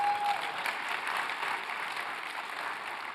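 Audience applause at a talk, a steady, even wash of clapping from a fairly large crowd, moderately loud and unbroken throughout.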